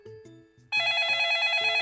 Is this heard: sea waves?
no